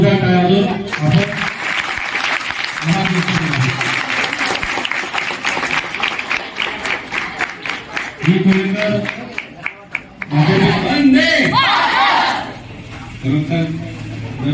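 Loud, sustained applause from a crowd at a secondary school event in Ambarnath, with dense clapping swelling and fading over several seconds while a speaker's voice cuts in at intervals.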